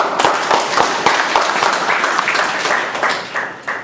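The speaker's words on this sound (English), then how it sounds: "we should give a big round of applause to our acting president" A meeting audience breaks into a loud, close round of applause for the acting president, with crisp individual claps that thin out slightly toward the end.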